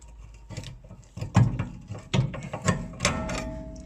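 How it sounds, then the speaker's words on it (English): A bolt being worked off a sway bar link on a car's rear axle, heard as close, irregular metallic clicks, ratcheting and clanks in several bursts with no talking. "As you can see, the bolt is coming off"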